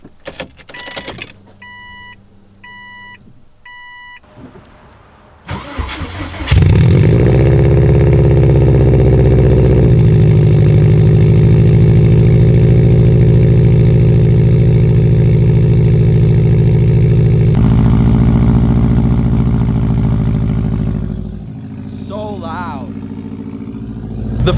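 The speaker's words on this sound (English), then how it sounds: "It does seem like it has a little trouble starting, but she starts right up." A Subaru STI engine cranks briefly in cold weather and then catches, settling into a loud, steady idle close by. A chime sounds and a voice speaks before the start, and the idle later drops a little quieter.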